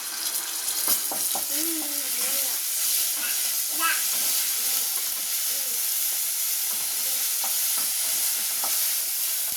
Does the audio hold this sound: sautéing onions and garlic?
yes